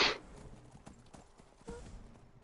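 A horse's hooves clip-clop in a steady, quiet rhythm in the Skyrim video game, soft and slightly distant, with faint game sounds around it.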